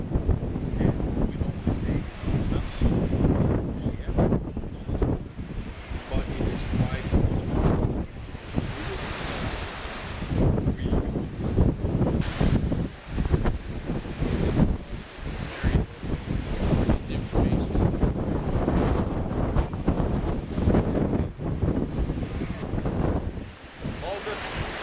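Strong, gusting wind buffets a high lookout on the Syria–Israel border, roaring steadily across the microphone in rough surges for the whole stretch.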